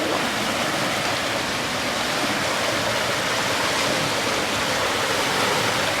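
Creek water rushes steadily on a rainy day, a dense, even wash of broadband noise that stays loud and unbroken throughout with no voices.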